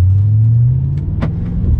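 An Audi RS4 B7 engine rumbles loudly on a race track, a deep steady drone close to the microphone with slight rises in pitch, no voices.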